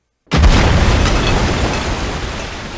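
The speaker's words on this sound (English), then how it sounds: "they hear a cannon fire at their ship" A single cannon fires at a ship in an animated pirate episode, a sudden loud boom that bursts out of silence and rolls on as a dense, rumbling wash, slowly fading but still strong at the end.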